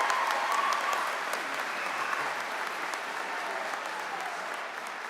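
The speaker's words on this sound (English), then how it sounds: "Please join me in a round of applause for our graduates." Steady applause from a large audience at the Henry Wise Wood class of 2025 graduation ceremony, a dense, even wash of clapping that holds at a fairly constant level from start to finish.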